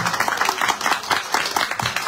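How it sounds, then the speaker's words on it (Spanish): Audience applause at a Spanish-language book talk, a dense patter of many hands clapping steadily and fairly close for the whole stretch, with no voices over it. "Aplausos por usted, claro."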